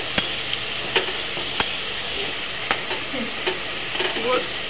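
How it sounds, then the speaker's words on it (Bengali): Small potato pieces fry in hot oil with a little salt and turmeric, a steady close sizzle broken by occasional sharp clicks and scrapes of a spatula stirring the pan. "আলুর মধ্যে একটুখানি নুন, একটু হলুদ দিয়ে আলুগুলোকে লাল লাল করে ভেজে তুলে নেব"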